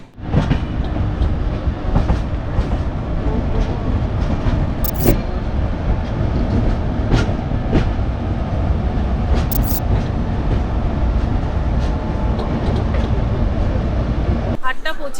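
The Darjeeling Mail train, running from Kolkata to New Jalpaiguri, rolls along with a continuous rumbling clatter heard from inside a carriage, with occasional sharp metallic clicks and squeals over the steady noise.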